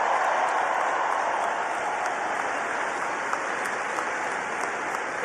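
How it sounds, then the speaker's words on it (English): A large crowd applauding steadily at a university commencement, dense continuous clapping that holds at an even level throughout. "let's give a big round of applause to the leaders of this state"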